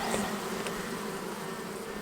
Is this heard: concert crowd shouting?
no